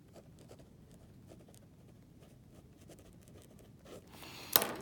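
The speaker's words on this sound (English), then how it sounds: "So I have to write that here." A pen scratching across paper in short quiet strokes with small pauses, close and faint, ending in a brief sharper scrape or tap.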